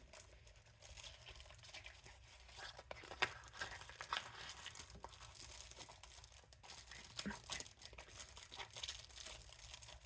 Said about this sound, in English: Are you someone who hates crinkly sounds, or do you like it?